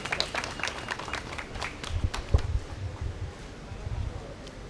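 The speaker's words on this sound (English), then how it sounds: "please can we welcome him with a round of applause, please." A room full of people at a protest outside the Nigeria High Commission in London claps in a brief, moderate round of applause, with scattered individual claps and some murmuring.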